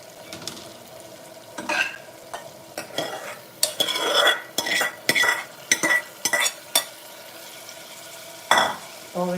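A spoon stirs bottle gourd and lentil curry in a pan, with a run of distinct scraping and clinking strokes over a soft background sizzle.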